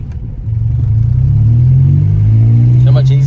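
Acura Integra with a B18C1 engine, ACT clutch and lightweight flywheel, idling loud and close as it is put into gear, the engine note steady with a rising drone, a voice briefly audible near the end.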